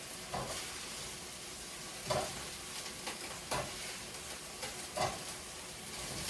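A steak frying in a pan gives a faint, even sizzle, with a few soft stirring or scraping bumps spaced through it.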